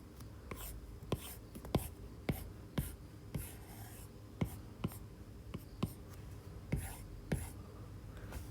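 Marker or chalk strokes on a classroom board during a lecture on the stability of linear systems, a dozen or so short scratchy taps and squeaks spread evenly across the clip, fairly close, with quiet room tone between.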